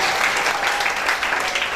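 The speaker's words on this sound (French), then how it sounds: "On applaudit très fort pour la parole." Church congregation applauding during a sermon, dense continuous clapping that is fairly loud and close, with no speech over it.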